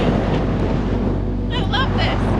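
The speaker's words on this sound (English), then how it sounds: "It's so windy." Strong wind buffets the microphone on the sand dunes of Great Sand Dunes National Park, a loud continuous low rumble with a brief higher whistle partway through.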